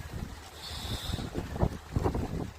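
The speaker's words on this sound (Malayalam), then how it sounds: "നല്ല കാറ്റ്" Strong storm wind at sea off Vizhinjam buffets the microphone in gusty roars, with the slap and wash of water against a fishing boat underneath.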